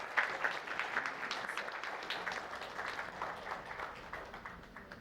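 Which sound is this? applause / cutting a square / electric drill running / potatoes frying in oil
applause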